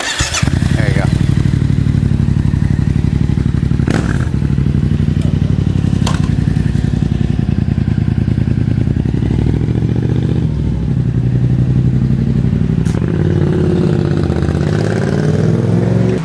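Yamaha XSR700 with an Ohlins fork kit riding: a loud, steady engine drone fills the whole stretch with rising and falling revs, close up, with a few sharp knocks and voices talking over it.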